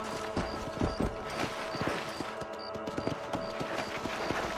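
A horse galloping in Red Dead Redemption, with steady rhythmic clip-clop hoofbeats close and clear, plus faint tack and mechanical rattles and no talk over it.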